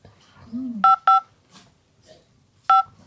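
Telephone keypad tones sound as a number is dialed: three crisp, evenly pitched beeps, two in quick succession and one after a pause, loud and close, with brief murmured speech between them.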